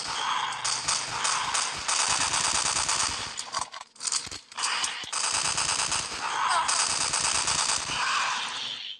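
Rapid machine-gun fire rattles almost nonstop in the video game Death Park 2, loud and dense with a brief pause midway before more sustained bursts.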